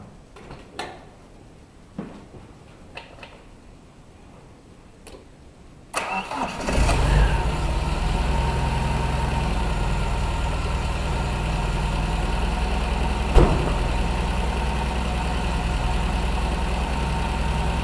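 An old MGB sports car engine cranks and catches, then settles into a steady, loud idle that runs on without a break, with a few faint clicks before it starts.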